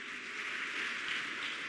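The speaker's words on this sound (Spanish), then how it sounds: "Fuerte el aplauso para recibirlos a los dos," Faint, distant-sounding applause from a conference audience welcoming two speakers, a soft continuous patter of many hands clapping at low volume for under two seconds.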